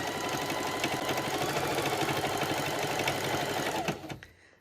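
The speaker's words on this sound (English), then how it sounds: "And now I just sew this all the way around." A sewing machine stitches steadily around the trim of a farmhouse kitchen dish drying mat, a continuous close motor whir for about four seconds that then slows and stops.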